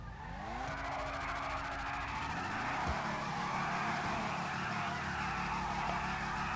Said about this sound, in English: this time I go do wheel spin